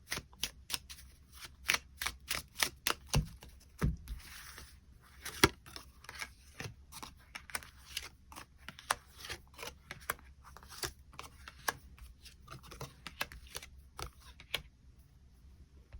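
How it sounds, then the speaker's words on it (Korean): Tarot cards are shuffled and drawn in a run of quiet, crisp flicks and snaps close to the listener. The sounds come densely at first, then thin out to sparser taps, with no voices. "추가 카드로 일별로 월요일부터 일요일까지 어떤 하루를 보내게 될지 추가 카드 뽑아보도록 하겠습니다"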